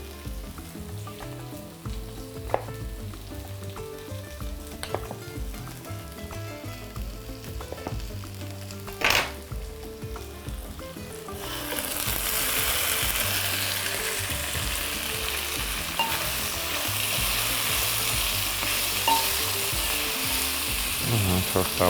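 Pork neck sizzling in a hot pan, with a steady crackling fry that rises to a loud, dense hiss partway through as more meat goes in, plus occasional utensil clinks and stirring, close by.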